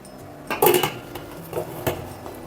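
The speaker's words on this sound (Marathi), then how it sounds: "आणि झाकण लावून घ्यायचं आहे" A metal lid set onto a pressure cooker on the stove, heard as a loud close clatter and ring of steel, then a few lighter knocks as it settles.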